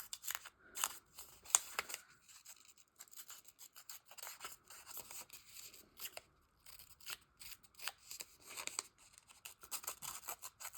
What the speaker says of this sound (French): Pour venir un petit peu user le papier sur le côté tout en ne déchirant pas.